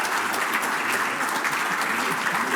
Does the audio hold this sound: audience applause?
yes